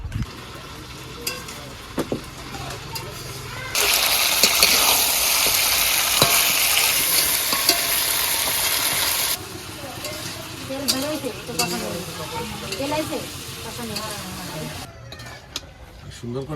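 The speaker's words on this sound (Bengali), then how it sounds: "সুন্দর করে কষায় নিছি" Kadaknath chicken sautéed and stirred in a pan, with loud continuous sizzling in the middle stretch, then quieter frying and scraping stir strokes; voices talk intermittently around it.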